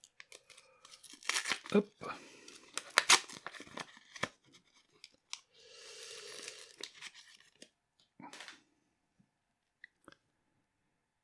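Foil wrapper of a Flesh and Blood History Pack 1 Black Label booster pack being torn open in several sharp rips and crinkles, with a brief spoken word and quiet pauses between bursts.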